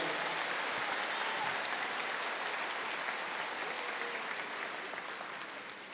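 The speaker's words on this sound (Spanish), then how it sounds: "Un aplauso para nuestra selección del año 62." A crowd at a presidential event applauds Colombia's 1962 national football team, a continuous rush of many hands clapping, fairly distant and sustained, fading slightly toward the end.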